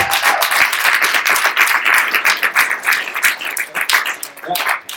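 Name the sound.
audience round of applause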